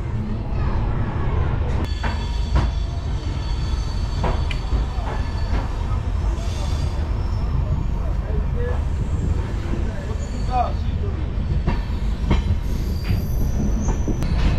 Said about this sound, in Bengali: লোকোমোটিভও চেঞ্জ হয়ে গেল আর আমাদের ট্রেন যাত্রা শুরু করে দিল রঙ্গিয়া জংশন লাইনে